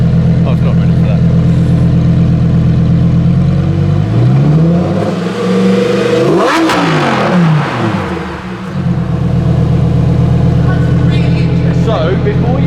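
A Lamborghini Huracan STO engine revs hard and very loud up close, a sustained roar climbing and falling in pitch through a couple of surges before settling back to a high steady drone.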